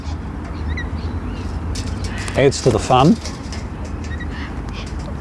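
Birds call in a brief squawking burst of a few harsh, quacking notes close by, set against steady background noise, with someone talking softly around them.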